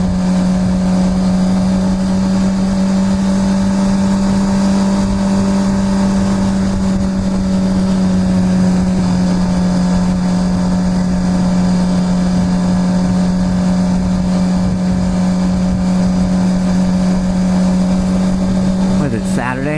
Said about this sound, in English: It's a dirt bike.